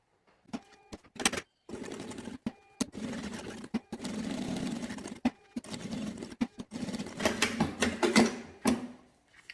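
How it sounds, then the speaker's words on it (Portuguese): A sewing machine runs in short bursts, stitching a seam around fabric edges for a Christmas decoration, with a whirring motor broken by pauses and faint clicks between runs. "Eu vou fazer isso com um pezinho de máquina, dando retrocesso no início e no final."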